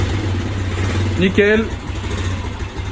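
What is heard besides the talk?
motorcycle engine started and idling after clutch replacement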